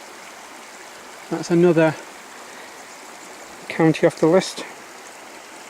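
A small river marking the border in Northumberland flows with a steady soft rushing hiss, continuous in the background while someone speaks briefly twice over it.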